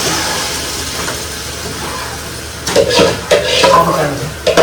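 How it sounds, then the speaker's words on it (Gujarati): Sizzling in a hot pan with scraping and stirring of a utensil, a few clattering bursts near the end as tomato gravy is added. "હવે આપણે એમાં આ ટમેટાની ગ્રેવી નાખીશું"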